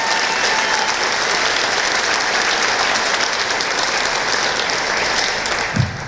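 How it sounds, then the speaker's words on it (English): Crowd at a political campaign event in Broadview Heights, Ohio claps steadily and loudly for Lieutenant Governor Mary Taylor, a sustained round that eases slightly near the end with a brief thump. "So we give her one more round of applause."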